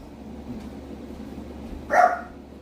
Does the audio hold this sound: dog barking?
yes